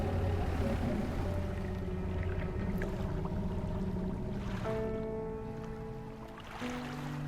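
A fishing boat sails across open water in DREDGE, its steady low engine hum and lapping water running continuously with a few soft tonal game sounds layered on top.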